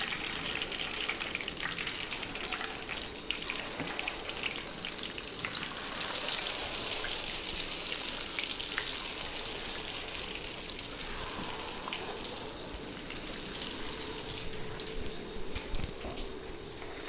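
Chicken 65 pieces deep-frying in a batch of hot oil, a dense continuous sizzle with crackling pops, steady and fairly quiet throughout.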